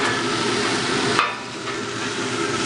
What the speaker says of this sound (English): So give those a chance to kind of cook because the broccoli was frozen